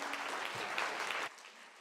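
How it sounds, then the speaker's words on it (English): A short burst of dense applause from a conference audience, clapping loudly for about a second before cutting off abruptly. "And please give Tom a huge round of applause."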